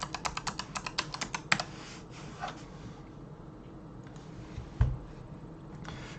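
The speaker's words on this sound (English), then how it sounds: "And then just type in Mold-Tec." Rapid keystrokes on a computer keyboard, an even run of close clicks, then fading to quieter scattered taps and a single knock over low room noise.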